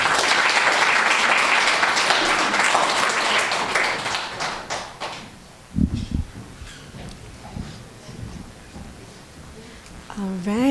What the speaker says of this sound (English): another round of applause for Rachel